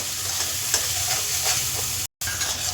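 Spice paste with turmeric stir-fries in a pan, giving a steady, close oil sizzle with a few faint scrapes from stirring, cut by one abrupt brief dropout near the end.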